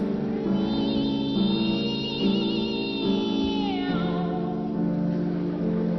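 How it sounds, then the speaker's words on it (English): Sustained, tonal cat meows rising and sliding over a droning musical background, the pitch bending down near the end. "Meowing's not music."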